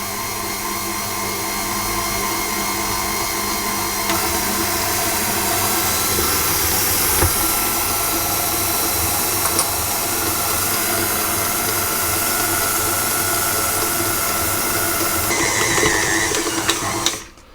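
A stand mixer kneads bread dough for cloverleaf dinner rolls, a steady close motor whir with a faint hiss running unbroken for the whole stretch, with no talking.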